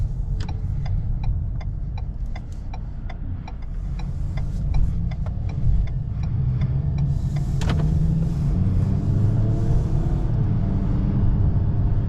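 A 2022 Ford Maverick drives at night, heard from inside the cab. A steady low road rumble continues throughout, and a run of regular clicks like a turn signal ticks during the first half.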